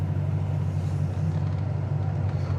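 A 1978 Z28 Camaro engine pulls steadily in first gear, a low continuous rumble heard from inside the car, even and unbroken throughout.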